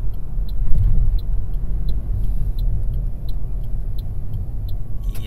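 Steady car traffic on the newly opened Nagoya expressway section, a continuous loud road rumble of passing vehicles heard from inside a moving car, with faint periodic ticks above it.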